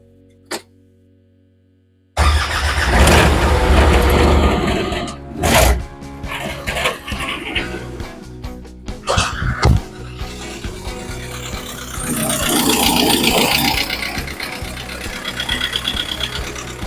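The Perkins engine of a CAT Mini-X 304.5 mini excavator after a full service cranks and fires up, then runs with a loud rough clatter that dips and surges before settling into a steady idle.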